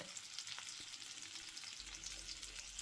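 Fried hake and onions sizzle softly in a frying pan over very low heat, making a faint, steady crackle with occasional small pops close by.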